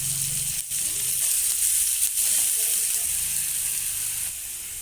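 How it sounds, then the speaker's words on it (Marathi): Cumin, asafoetida and fenugreek tempering sizzles in hot oil with a steady, close, bright hiss, faint stirring beneath, for a Khandeshi brinjal bharit. "नंतर मेथीला इथे टाकून व्यवस्थित परतवून घेऊया"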